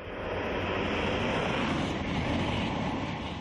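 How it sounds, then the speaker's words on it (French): TGV high-speed trains passing through countryside beside houses, a loud, steady broadband roar that holds throughout without letup, with no talking. "Des trains, 93 TGV par jour qui, dans un vacarme assourdissant, traversent la campagne au pied de leur maison."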